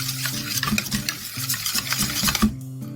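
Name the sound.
stirring pancake batter in a bowl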